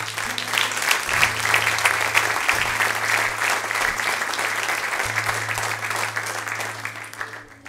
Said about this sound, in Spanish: Le damos un aplauso a él, mi hermano.